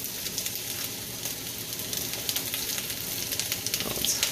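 Onions and zucchini frying in olive oil in a pan give a steady, dense sizzle and crackle that holds close and even throughout, slightly rising toward the end, with no voices.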